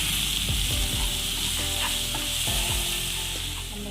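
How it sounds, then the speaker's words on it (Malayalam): Onions with turmeric sautéing in oil for a masala curry, a steady close sizzle with a few scraping stirs of a spatula, no talk. "അല്പം മഞ്ഞൾപ്പൊടി ഇതൊന്ന് നന്നായിട്ട് വഴന്ന് വെക്കും"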